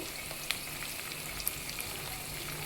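Curry leaves and green chillies fry in a hot oil tempering for pulihora, a steady soft sizzle with a couple of small pops, close and alone.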